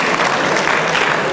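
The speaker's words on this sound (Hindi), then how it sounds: "एक दफ़ा आप अपने लिए तालियां" An audience at a poetry mushaira in Sargodha bursts into dense, sustained applause, close and loud for a brief moment.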